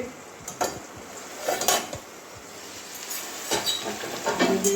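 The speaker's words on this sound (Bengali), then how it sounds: "এবারে ঢাকনাটা খুলছি" A metal lid comes off a cooking pot of ivy gourd simmering in water over medium gas, giving several sharp close clinks and scrapes of metal on metal spread across a few seconds.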